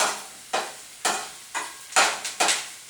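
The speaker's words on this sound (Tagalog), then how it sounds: "Ginisa is just do the sauteing of the onions and garlic, then put anything that you want to gisa." Onions, garlic and sardines sautéing in a hot pan over a raised flame, with a steady frying hiss broken by regular stirring scrapes about every half second, close and moderately loud with no talk.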